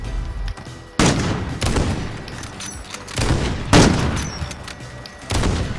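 Rapid bursts of video game gunfire crack out in several loud volleys, with sharp onsets at intervals and dense noisy tails between them, no talking.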